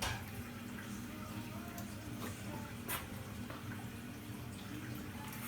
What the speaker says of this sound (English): We just add a little bit of cold water.